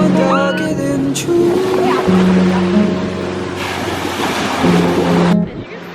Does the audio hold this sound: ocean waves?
yes